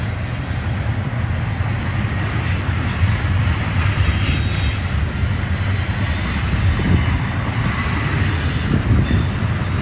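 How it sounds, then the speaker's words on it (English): Union Pacific double-stack freight trains cross the Cienega Creek bridge, a steady loud rumble of rolling cars with squealing wheels and faint clickety-clack, heard from nearby throughout. "Alright, so we got a train going over the bridge."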